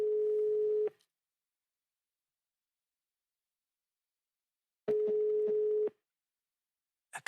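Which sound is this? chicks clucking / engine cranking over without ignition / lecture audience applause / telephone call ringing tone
telephone call ringing tone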